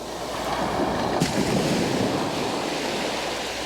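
Sea waves rush back and splash off rock on the shore at Happisburgh at sunrise, a continuous nearby roar of surf that swells slightly and then holds steady.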